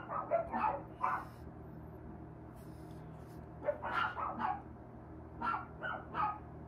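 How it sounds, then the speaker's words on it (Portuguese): A dog barks in short clustered bursts of yips and bow-wows, somewhat distant and moderately loud, in three separate volleys over a low background hum. "começou o cachorro cantar aí"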